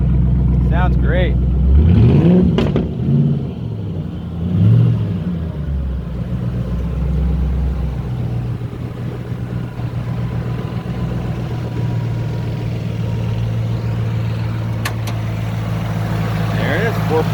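The 4.6 V8 of a 2007 Ford Mustang GT wearing a widebody 1969 Mustang body runs with a steady, droning rumble, while people chat over it near the start.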